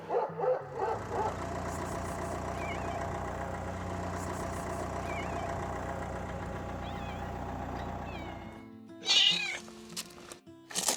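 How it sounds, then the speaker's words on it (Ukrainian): A ginger cat meows repeatedly, loud and close, over a steady low engine-like hum that cuts out near the end, followed by a few sharper cries. "Це котик рижий."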